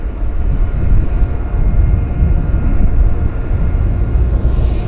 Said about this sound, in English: on the runway we have Pacific Coastal Beach 1900 on the roll